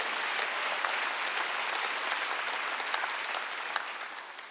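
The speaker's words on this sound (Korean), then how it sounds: "빨리 박수하세요." A church congregation claps in steady, dense applause at a Wednesday worship service, a broad even wash of many hands that holds for several seconds and eases slightly at the end.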